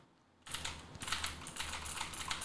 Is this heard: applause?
no